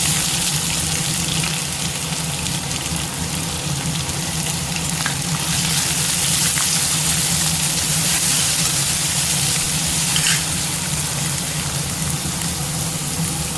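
Chopped onions frying in a pan with cardamom for a chickpea curry: a loud, continuous sizzle with faint scrapes of stirring, no voices.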